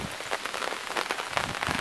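Rain falls steadily nearby, drops pattering on a surface in a dense, even patter.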